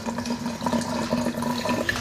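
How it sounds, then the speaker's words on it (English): About a cup of water poured into a mixture while a recipe is being prepared, a steady, unbroken splashing pour of moderate loudness lasting about two seconds, with no talking over it. "It looks like we're going to need about a cup of water in there."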